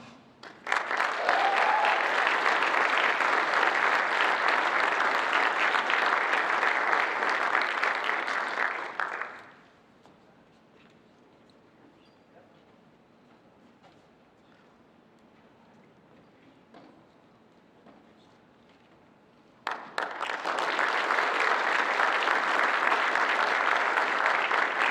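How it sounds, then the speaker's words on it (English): A crowd at an awards night ceremony claps loudly for about nine seconds, then falls into a quiet room tone, and the applause returns just as strongly near the end. "Give these 4 another round of applause."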